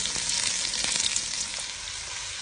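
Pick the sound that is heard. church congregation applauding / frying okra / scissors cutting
frying okra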